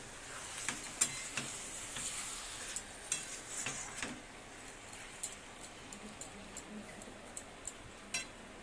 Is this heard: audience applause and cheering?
no